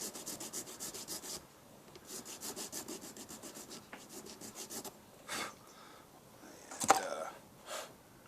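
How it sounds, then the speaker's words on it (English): A bevel file rasps back and forth through a metal part in a run of quick, close scraping strokes, then pauses before a few shorter passes. "I take that bevel file through there again"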